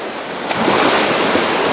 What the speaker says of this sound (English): I just got a funny feeling I'm butchering this whole thing with this ocean sound